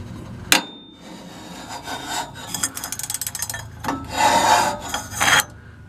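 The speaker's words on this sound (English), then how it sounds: "Sorry for the noise. Had to scrape it on the exhaust." A hand tool rasps and scrapes against the exhaust underneath a Chevy C20 truck during a transmission mount job, a sharp knock followed by bursts of gritty rubbing and scraping, close and loud without talk.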